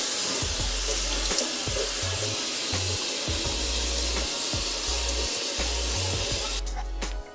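Water runs from a kitchen tap over hair being rinsed, a steady hissing splash at close range with low rumbling bursts throughout, cutting off abruptly near the end.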